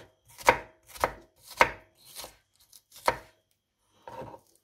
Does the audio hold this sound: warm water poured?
no